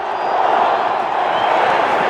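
A stadium crowd at a 1997 Dallas Cowboys game against the Washington Redskins does the wave, a loud, steady roar of many voices and cheers that holds without break.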